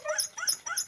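An excited dog on a farm in the Philippines whimpers and yips in three quick high-pitched bursts, close and fairly loud against a quiet background.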